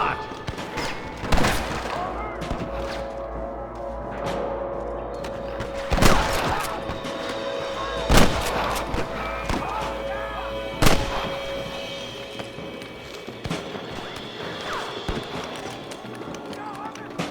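Gunfire rings out in the Red Dead Redemption video game, several loud, sharp shots spaced seconds apart over a rumbling backdrop with hoofbeats, while characters speak in between.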